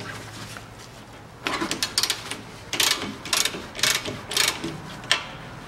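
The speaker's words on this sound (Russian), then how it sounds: "Теперь откручиваем гайку от стойки стабилизатора." Ratcheting of a wrench with an 18 mm socket loosening the nut on a Volkswagen Tiguan front stabilizer link, several close bursts of rapid mechanical clicking separated by short pauses.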